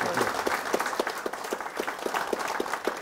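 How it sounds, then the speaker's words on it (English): Audience applause after a tribute at a talk about Harriet Tubman, steady dense clapping from a seated crowd, fairly loud and continuous throughout with no voices over it. "Let's give her a big round of applause"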